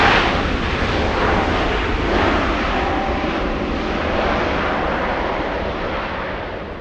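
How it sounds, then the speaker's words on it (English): A Finnair airliner on final approach gives a steady, broad jet roar that is fairly loud at first and slowly fades as it passes, with no talking. "Finnair on final."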